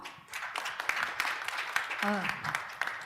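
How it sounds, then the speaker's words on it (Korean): Audience applause welcoming the panel moderator at a business conference panel discussion: a steady, fairly soft patter of many hands clapping throughout, with a brief voice-like tone partway through. "여러분 박수로 환영해 주시죠."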